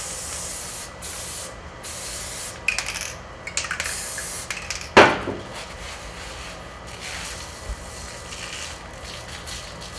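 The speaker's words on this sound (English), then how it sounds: "I'll give them another spray on this side." Short hissing bursts from an aerosol can giving a snowy coating, several quick sprays then one louder spray, with light rustling handling noises between them.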